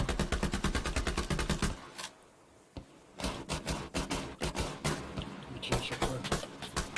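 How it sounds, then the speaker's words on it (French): Rapid bursts of covering fire ring out in a video game, dense automatic volleys with a short pause, then a string of sharp, uneven shots, loud and close. "c'est des tirs de couverture"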